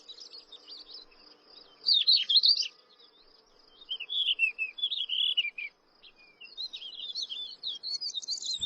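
Spring birdsong from a spectacled warbler and a Thekla's lark in rocky scrubland, with bright twittering phrases in bursts separated by short pauses and a faint insect buzz underneath.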